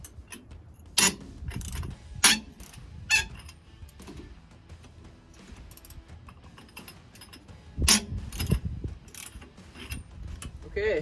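Hand tool loosening bolts on a Ford Ranger leaf spring during an add-a-leaf lift install, giving scattered ratcheting clicks and metallic squeaks in a few short bursts with quieter gaps between.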